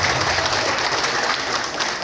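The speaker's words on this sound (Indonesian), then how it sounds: "Tepuk tangan dulu buat semua" A crowd at a KWK Timur gathering applauds. The clapping is dense and continuous, filling two seconds at a steady, fairly loud level with no voices.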